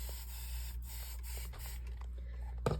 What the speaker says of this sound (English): I was spraying her hair.